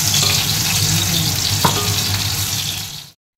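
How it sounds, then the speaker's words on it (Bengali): Potato pieces fry in hot oil seasoned with black cumin, the start of a watermelon curry, making a loud, continuous crackling sizzle with a single sharp tap partway through before the sound cuts off abruptly. "তেল দিয়ে এই আলুগুলোকে লাল লাল করে একটু ভেজে নেবো।"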